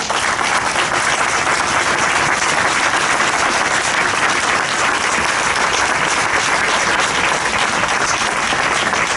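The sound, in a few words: applause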